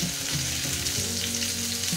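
Chicken pieces frying in hot oil for Goan chicken cafreal, giving a steady dense sizzle throughout with a few soft stirring clinks, close and fairly loud, no talk.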